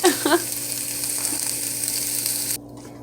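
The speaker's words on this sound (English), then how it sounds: "I spread butter all along one side and I put it in the pan so that it melted" A tortilla sizzling in melted butter in a frying pan gives off a steady, close crackle and hiss that cuts off abruptly near the end.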